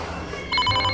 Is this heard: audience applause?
no